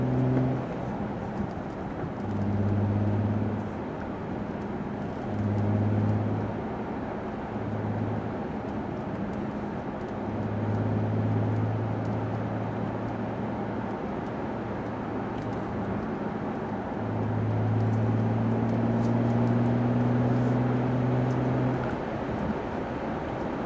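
Infiniti G37 with a Tanabe exhaust, heard from inside the cabin at around 40–45 mph: a steady low engine drone with intermittent rising pitch swells as the revs climb toward 5,000 rpm, moderately loud with no talking.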